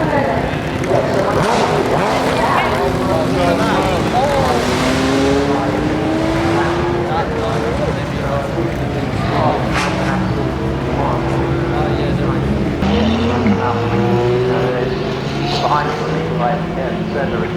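Ferrari F80 hybrid V6 with a factory race exhaust accelerating at the Goodwood Festival of Speed: loud, close engine roar with rising pitch sweeps through the gears, continuous over crowd noise, with people talking throughout.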